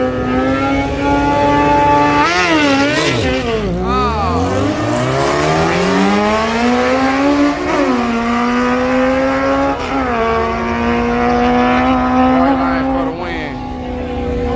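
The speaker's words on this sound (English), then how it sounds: "Here comes some motorcycles." Loud, continuous engine roar of motorcycles racing on an outlaw dirt track, revving and dipping as they pass, with overlapping whines from several machines nearby.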